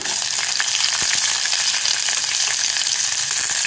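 Garlic and onion frying in hot oil with chana dal for a dal dish, a loud, dense, continuous sizzle heard up close and steady throughout, with no voices.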